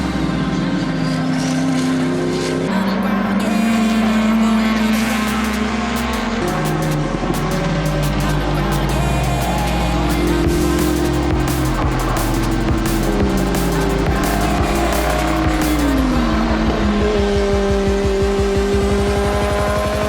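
Drift cars, among them a 1967 Camaro, an S2000 and a Miata, battle at Road Atlanta during a Formula Drift event, with loud roaring engines revving and wailing continuously and overlapping tones rising and falling.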